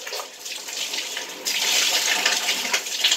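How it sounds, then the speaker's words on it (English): Water runs and splashes steadily while hair is being rinsed, a close, continuous gushing that grows fuller and louder partway through, with no voices. "I'm going to rinse my hair out."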